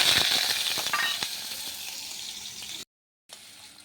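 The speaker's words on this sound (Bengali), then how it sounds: "দেখুন পেঁয়াজটা একটু লাল লাল করে নিচ্ছি" Onion fries in oil with black cumin in a kadai, giving a steady bright sizzle with occasional crackles and pops from up close. The sizzle cuts out briefly near the end and then resumes.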